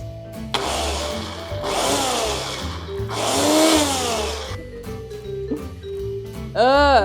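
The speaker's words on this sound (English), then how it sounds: "we'll just add the onions in, and we're just gonna blitz this a few times" A blender blitzes onions for a squash mac and cheese in a few loud whirring pulses, two of them sustained and a short final burst, with clunking handling noises between them.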